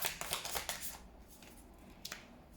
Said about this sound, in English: Okay, let me shuffle it again.